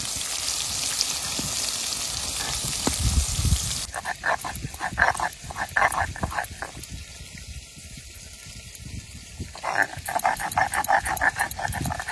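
Fish, a large village-caught gajar, fries in a pan with a steady sizzle. Bursts of spattering and scraping follow, with some background noise and brief voices.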